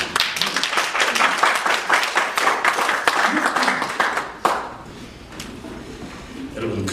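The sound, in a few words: audience applause welcoming a speaker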